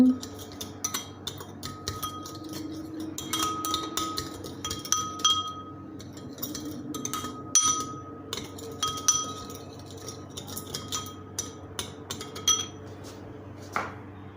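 Metal utensils clink and scrape against a frying pan as food is stirred by hand. The taps are sharp and irregular, fairly close and moderately loud, over a low background hum.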